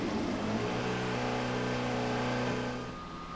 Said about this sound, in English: And then the moment we've all been waiting for, engine startup.